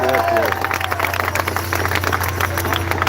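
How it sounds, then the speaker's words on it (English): A rally crowd bursts into applause and cheering at the Rescue the Republic event, loud and sustained, with a brief voice and tone at the start and crowd babble mixed in. "A round of applause for Brett."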